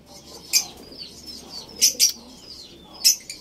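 A racing pigeon with swollen eyes from a one-eye cold gives a handful of short, sharp chirping calls close by, scattered across a quiet background, with no talking.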